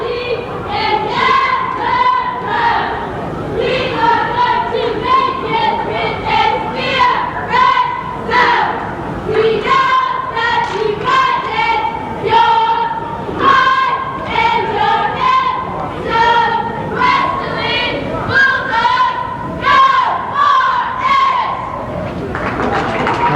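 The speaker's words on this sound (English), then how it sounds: "they're going to face our cameras for us and do us a welcome cheer" High school cheerleaders at a 1985 boys basketball league game in a gym chant a loud, continuous rhythmic welcome cheer, voices shouting in unison over crowd noise.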